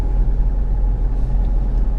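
A car driving along a country road, a steady low engine rumble and road noise filling the cabin without a break, fairly loud and constant, no one speaking.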